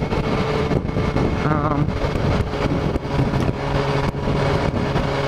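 A BMW S1000R motorcycle engine drones steadily while riding at around 4,500 rpm, its low hum buried under loud, gusting wind rush across the microphone.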